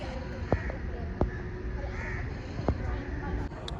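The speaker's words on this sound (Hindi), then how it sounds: "ये पोल पर बैठे हुए कौवे ऐसे लग रहे हैं जैसे हैरी पॉटर में वो चिड़िया बैठी होती थी" Crows perched on a pole in Muscat, Oman give several sharp, separate caws a second or so apart. The calls rise over a steady outdoor street hum.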